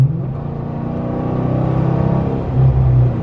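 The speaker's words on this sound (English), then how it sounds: "when I hit the gas, I mean, this thing does want to go." A 2016 Chrysler 300S with a 5.7-liter HEMI V8 accelerates, its deep engine rumble building steadily and swelling louder near the end, heard from inside the car with no talking.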